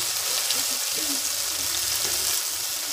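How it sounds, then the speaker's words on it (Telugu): A spice paste with turmeric fries in a pan, a steady close-up sizzle with soft crackles and occasional stirring scrapes, continuous for a few seconds. "బాగా ఎర్రగా ఈ పేస్ట్ అనేది ఎర్రగా బాగా వేగాలి. పచ్చివాసన పోయేంత వరకు వేగాలి."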